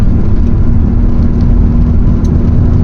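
Small engine of a vintage VW T3/T25 van driving along the Cat and Fiddle road (A537), a loud, steady, close droning hum with a low whir that holds constant throughout, no voices.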